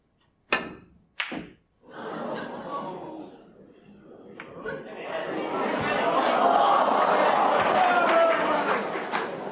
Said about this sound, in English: the crowd are getting very excited